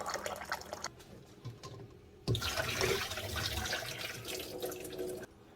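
Green-shelled eggs rinsed under hot running water, a soft splash and trickle at first, then a louder steady gush from the tap that runs for several seconds before cutting off.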